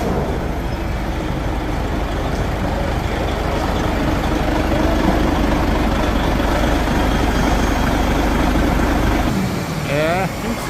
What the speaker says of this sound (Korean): 인젝터 6번 수리하고 시동을 걸었습니다. 첫 시동을 걸었습니다.